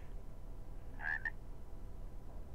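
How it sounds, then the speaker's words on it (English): A frog croaks at night in TerraFirmaCraft, a Minecraft mod game: one short croak and a quick second note rise above a steady low ambient hum, faint and somewhat distant, with no talking. "I hear frogs"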